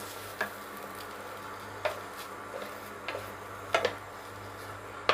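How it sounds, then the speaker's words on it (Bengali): A spoon scrapes and taps intermittently through a mung dal laddu mixture with milk in a pan, giving soft scattered ticks over a low steady hum, quiet and close. "তো এইভাবে আমি নেড়ে নেব।"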